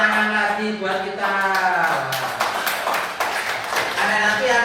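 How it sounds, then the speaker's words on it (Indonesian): Children in an Indonesian primary-school religion class clap together in a short burst of applause, mixed with their voices and chatter throughout. "Tepuk tangan lagi buat kita."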